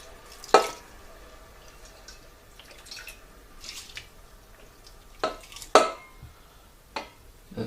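Boiled kettle water is poured in small splashes to rinse cooked lentils out of a pot, giving a few sharp, close drips and sloshes spaced by quiet pauses.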